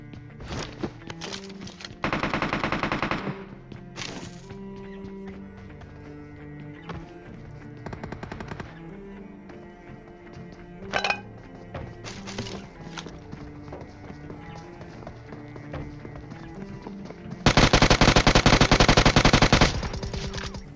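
Shotgun blasts and rapid gunfire in a mobile battle royale video game, two dense bursts of shooting near the start and end, over steady game background sound with scattered single shots.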